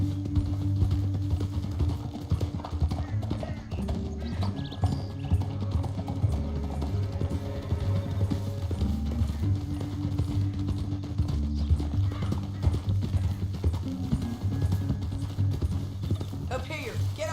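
Horse hooves clip-clop steadily in Red Dead Redemption 2 amid a riding scene, set against a dense bed of low rumbling game score and ambience, with a speaking voice present but not dominant.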